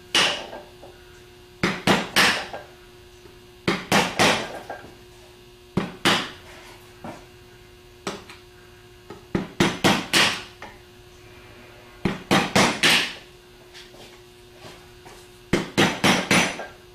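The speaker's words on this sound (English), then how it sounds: "I'm going to go around and tap it with a hammer to push some of the aluminum back" Hammer tapping a sharpened screwdriver against the aluminum of an AD alternator during a rebuild, heard up close as clusters of two to four sharp metallic taps about every two seconds over a quiet background.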